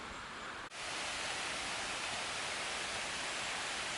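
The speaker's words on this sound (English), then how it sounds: "I think I can hear the waterfall spilling over in the background" A waterfall at Isabella Falls spills over somewhere off in the background on a hike, a steady, even wash of broadband hiss with one brief dip near the start.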